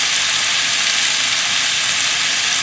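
Oyster sauce hits sizzling beef in a hot pan, giving a loud, continuous, close frying hiss that stays dense and even with no pauses.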